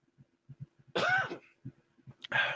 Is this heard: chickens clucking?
no